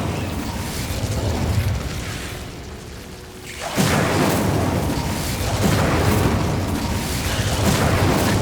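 Incendio fire spell cast in Hogwarts Legacy, a loud roaring whoosh of flame that swells after a brief dip, dense and sustained with rumbling texture, heard close with no talking.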